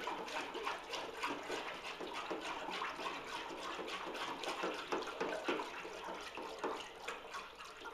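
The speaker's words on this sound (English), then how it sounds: "We'll move the bucket of slip into position. Give it a stir." A bucket of iron slip, a liquid clay, being stirred in a pottery studio, giving a steady, continuous sloshing and swishing of thick liquid at close range with no speech.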